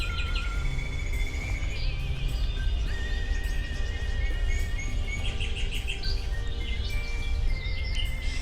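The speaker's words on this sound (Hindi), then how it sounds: "और लगातार हर तरफ यहाँ पे पक्षियों की भी ध्वनि सुनाई देने लगी है।" Birds call in Bharat Darshan Park, with several thin chirps and whistles overlapping continuously against a loud, steady outdoor background noise.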